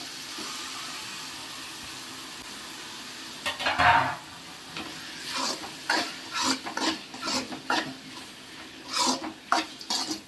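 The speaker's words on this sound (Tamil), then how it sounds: "அரிஞ்சு வச்சிருக்கிற தக்காளியை போடுறோம்." Chopped tomatoes tossed into a hot pan for a chicken gravy, a brief loud hiss as they land, then a run of steady sizzling and repeated scraping stirs against the pan with no talk.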